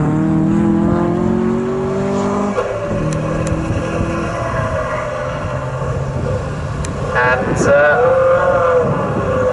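Classic K Series race cars pull away from pit-stop driver changes at Snetterton, loud engine notes climbing and shifting through gears, with another car's rising rev sweep near the end and a brief spoken word.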